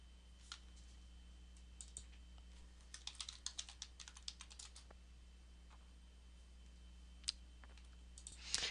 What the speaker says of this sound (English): I am now logged on to the system after typing my login and password correctly.